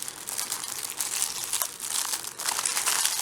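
Small plastic storage envelopes with snap and Velcro closures being handled up close, giving continuous soft crinkling and rustling that swells in bursts, with no voices.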